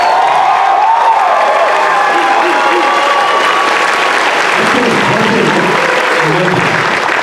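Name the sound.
audience applause at a Batman: The Animated Series panel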